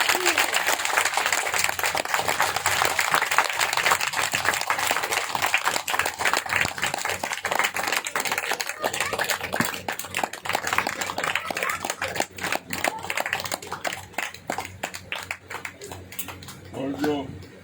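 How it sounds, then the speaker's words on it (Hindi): An audience claps in welcome at a devotional religious gathering in Delhi, a dense ongoing round of applause that thins toward the end, with speech heard alongside. "आप लोग तालियों से जो है इनका स्वागत कीजिए।"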